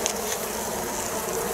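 Honeybees buzz in a dense, steady drone around a four-frame hive colony in March, a continuous close hum with no voices.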